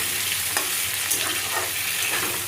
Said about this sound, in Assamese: আলুখিনি অকণমান ভাজি লোৱাৰ পিছত পটলটো দি দিম মই।